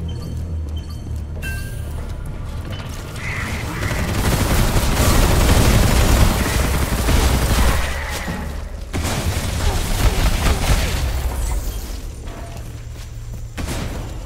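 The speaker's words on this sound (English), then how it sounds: "Throw a grenade in here." In a video game, a thrown grenade goes off amid heavy gunfire, with sustained loud blasts, rumbling booms and rattling shots swelling in the middle and continuing throughout.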